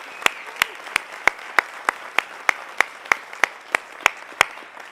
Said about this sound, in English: Let's give have another round of applause for all of our amazing teams today?